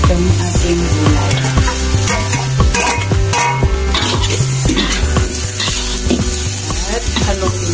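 Vegetables for Filipino bihon noodles are stirred in a hot pan, with a steady sizzle of frying under repeated scraping and clinking of a utensil against the metal, loud and close throughout.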